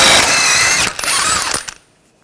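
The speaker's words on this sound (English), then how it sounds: "Using a 32mm socket, take this nut off." A power tool with a 32mm socket spins off the front axle nut of a 2014-2020 Nissan Rogue during a strut replacement: a loud whirring burst, then brief mechanical rattles before it goes quiet.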